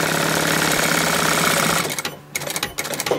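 A sewing machine stitches fabric pieces together at a steady, fast rhythmic whir close by, then slows and stops briefly before a few shorter stitching bursts.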